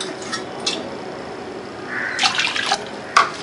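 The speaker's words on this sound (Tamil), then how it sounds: "அதில் 2 கப்பு தண்ணி விடணும்" Water splashes and trickles into a pot of washed toor dal in short bursts, a brief pour near the middle and another splash at the end, fairly close.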